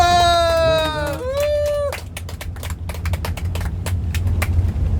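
A group of people breaks into applause after a drawn-out voiced tone. The claps are sparse and sharp at first, then quicker and denser, over a low background rumble.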